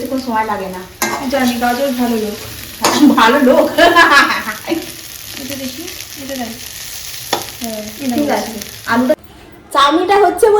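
Chow mein stir-frying in a pan in a home kitchen, a steady sizzle with scraping and stirring running beneath near, fairly loud voices of people talking throughout.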